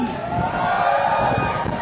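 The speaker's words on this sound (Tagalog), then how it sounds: "Isang palakpakan may hiyawan!" A crowd claps and cheers together in a dense, steady roar that holds at full loudness for under two seconds, with a faint high tone running through it.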